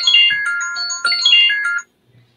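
Incoming-call ringtone from a computer, a bright electronic melody of two quick repeated phrases, loud and close, that cuts off abruptly and leaves near silence.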